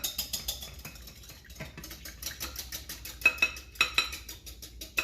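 Egg yolks being whisked in a bowl for hollandaise sauce, a quick run of light metallic clinks and patters of whisk on bowl, fairly close and moderately quiet.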